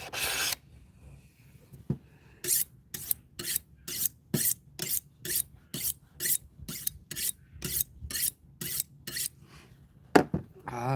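A fillet knife is sharpened for cutting yellow perch: about fifteen evenly spaced, close rasping strokes in a steady rhythm, with no talk.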